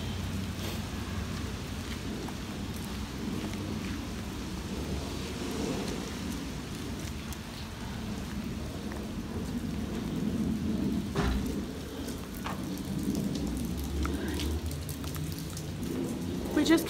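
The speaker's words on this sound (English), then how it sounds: "It is raining." Steady rain falling outside with low rumbles of thunder rolling underneath, a constant wash of drops throughout with a louder crack near the end.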